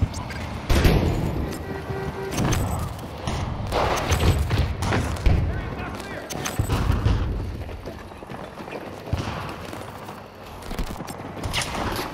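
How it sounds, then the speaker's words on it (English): Grenade blast in a Battlefield video game amid ongoing combat, heavy booming thuds and scattered gunfire rolling through a dense, loud battle soundscape. "Grenade out!"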